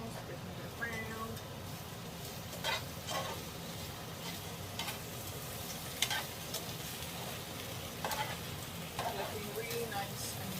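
Greens are stirred with tongs in a hot pan, giving a soft continuous sizzle with scattered scraping clicks and clatter as the food is moved around.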